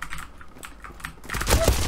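Computer keyboard typing with close, crisp clicks and taps, sparse at first and then quickening into a denser, louder flurry of keystrokes.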